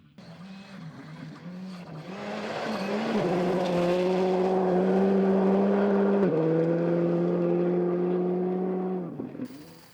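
A rally car on a gravel stage at the South Canterbury Rally roars closer with its engine rising through the gears, holds a loud, strained note as it passes near, then fades away.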